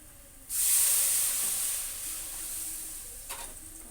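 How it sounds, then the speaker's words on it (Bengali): Hot water poured into fried spice masala in a pan bursts into a loud steamy hiss that slowly fades into a steady sizzle, with a brief extra crackle near the end. "মশলাটা পুরো কষানো হয়ে গেছে, দিয়ে দেবো একটু গরম জল"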